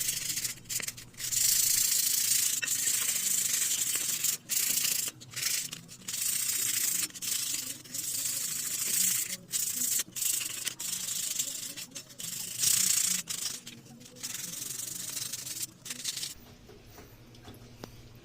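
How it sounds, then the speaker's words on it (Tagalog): A Honda CT125 motorcycle fuel tank is sanded by hand with 220-grit sandpaper, giving close, loud, continuous rasping strokes with brief pauses between passes and no talk. "Gagamitan natin ito ng 220 na liha"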